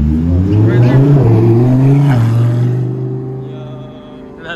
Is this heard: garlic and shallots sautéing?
no